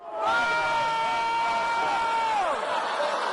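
An angry crowd at a Democratic State Convention in Las Vegas lets out a loud, sustained shout that holds steady and then falls away.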